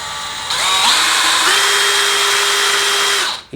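A power drill whines loudly and steadily for about three seconds, its pitch shifting slightly as it spins a mixing paddle in paint, then it winds down.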